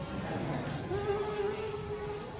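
A mosquito buzzes in a steady, close, high-pitched whine that starts abruptly after a short quiet moment and holds for the remaining couple of seconds alone.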